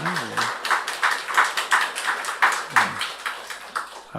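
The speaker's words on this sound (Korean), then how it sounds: "박수를 한번 환영했습니다." A church congregation claps to welcome a guest missionary during a Sunday service, with steady rhythmic hand claps that are moderately close and a brief voice now and then.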